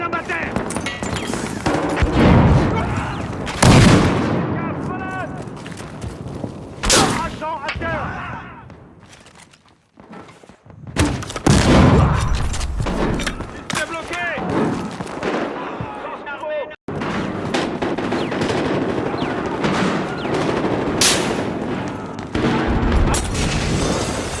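A video game firefight with a grenade explosion, rapid gunfire bursts and booming blasts that fill the scene at high volume, while players shout and talk over the chaotic combat noise.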